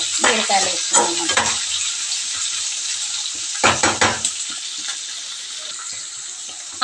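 Onions, green chillies and ridge gourd fry in a pan for a ridge gourd tomato curry, giving a steady close sizzle broken by bursts of spoon-stirring scrapes and clatter.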